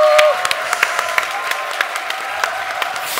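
An audience in a Korean church claps to welcome two pastors, a dense, steady round of applause in a hall that gradually eases off.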